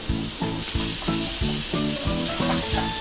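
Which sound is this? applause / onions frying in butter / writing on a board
onions frying in butter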